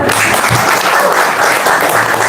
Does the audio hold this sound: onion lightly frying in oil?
no